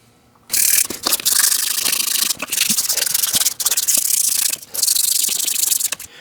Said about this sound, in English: I've gone over all of the wheels with 150 grit sandpaper